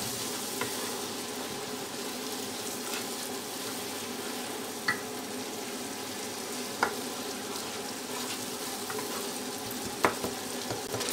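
Masala with taro frying and being stirred in a pan for an arvi chicken curry, giving a steady, fairly quiet sizzle with a few soft utensil clicks and scrapes.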